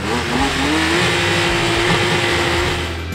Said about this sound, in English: Revving much higher and really throwing you in the back of the seat when you smash the throttle